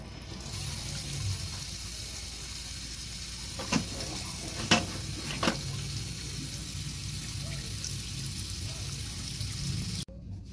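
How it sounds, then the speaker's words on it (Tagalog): Tap water runs steadily into a cooking pot holding frozen beef for a boiled beef stew, a continuous splashing flow with a few sharper clinks, ending abruptly. "Lagyan natin ng tubig."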